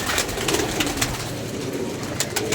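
Pigeons coo in soft, repeated throaty calls near a rooftop perch, with a constant low background and no talking.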